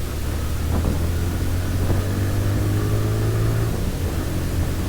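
Engine of a brand-new TVS Raider 125 motorcycle pulling under acceleration, a steady mid-pitched drone with rising harmonics as revs climb, loud and continuous against wind noise throughout.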